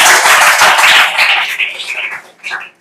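A group of students in a tuition class claps in a dense burst of applause that loudly fills the room, then thins out and fades to scattered claps over about three seconds.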